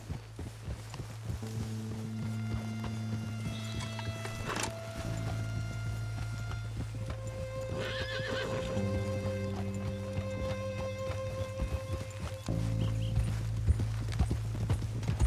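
Horse hooves clip-clopping at a steady rhythm as a rider travels in Red Dead Redemption 2, moderately close beneath continuous sustained tones.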